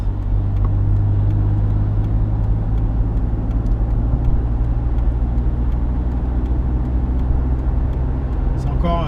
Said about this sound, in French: Un léger feulement de moteur qui est pas désagréable.